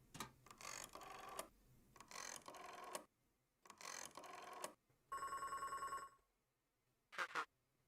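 In the video game Beacon Pines, a telephone rings in repeated bursts with short pauses between them, followed by a brief mechanical tone and a final short ring, clear and alone.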